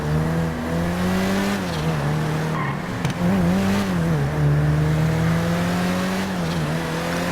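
A Pegassi Toros sports car in GTA Online drives with a loud, steady engine drone that dips and rises as it shifts and corners, with a brief tire squeal, heard up close with no talking.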